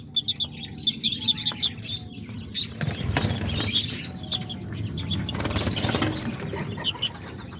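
Lovebirds in a cage chirp in quick bursts of high tweets while wings flap in a flurry, close and fairly loud, with the birds calling on and off over the whole stretch.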